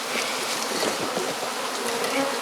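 A dense swarm of honeybees buzzes loudly and continuously, a close, thick droning hum with no pauses.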